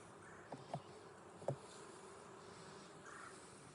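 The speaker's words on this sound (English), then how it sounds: "there's a lot of bees here" Honeybees buzz around an open hive during a hive inspection, a steady faint hum with a few louder close passes of individual bees near the start and middle.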